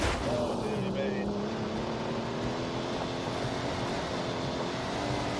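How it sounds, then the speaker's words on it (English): A car engine droning steadily in The Grand Tour video game, loud and continuous with rising engine tones throughout, while a voice talks over it. "This car's going a lot faster."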